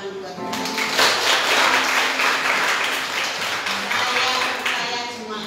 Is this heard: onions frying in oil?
no